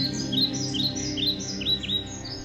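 Birds in a flowering grove at Lumbini chirp in quick, bright rising tweets, several calls in succession over a steady low musical drone beneath.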